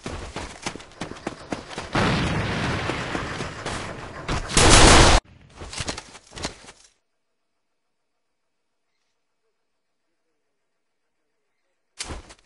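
Grenade throw and gunfire in the video game A.V.A: a burst of loud, dense shots and impacts, a harsh blast-like surge, then a few scattered hits before long silence and a final short crack.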